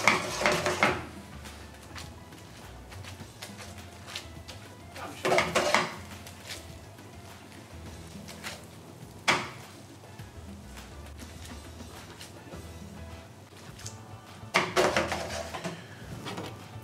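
Linguine al limón is tossed with cheese in a frying pan off the heat, making intermittent metallic clatter in short bursts separated by quiet stretches, fairly faint overall.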